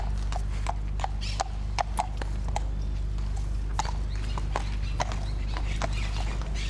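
Horses of the Mounted Grenadier Regiment march in formation, many hooves clip-clopping in an irregular stream of sharp strikes over a steady low rumble, moderately close.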